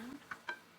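Shrimp seasoned with paprika, Italian seasoning, chili powder and garlic powder are stirred in a frying pan, giving a brief, quiet scrape and a couple of soft clicks with no talking.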